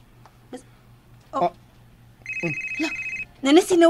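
A cellphone sounds an incoming call with a steady electronic ringtone lasting about a second, with scattered speech and movement noises around it.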